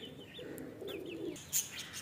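Chickens clucking softly at a distance near a budgie cage, with a few higher chirps and a brief sharper call near the end, over a low background hum.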